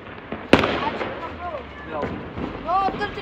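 A 12-shot firework goes off for Diwali with a sharp crack, followed by whistling rising tones and several more pops spaced out over a few seconds, under people talking nearby.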